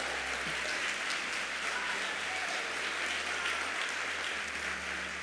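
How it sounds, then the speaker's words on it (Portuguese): Church congregation clapping hands in worship for Jesus, a steady dense wash of applause throughout, crowd-sized and sustained with no pauses. "coloca pressão nas suas palmas"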